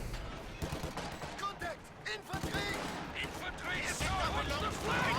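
A World War II strategy game match with grenades and a machine gun in a garrison plays irregular gunfire pops and blasts under continuous excited commentary.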